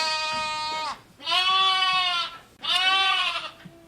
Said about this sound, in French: on a acheté un troupeau de brebis